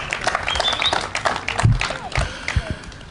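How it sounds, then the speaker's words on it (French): Audience applause for young performers at a poetry declamation show, a burst of scattered clapping mixed with a cheering crowd, fairly close, with some voices calling out through it. "J'ai besoin d'avoir un tonnerre d'applaudissements pour ces jeunes s'il vous plaît"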